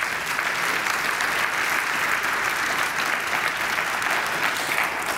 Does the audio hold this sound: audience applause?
yes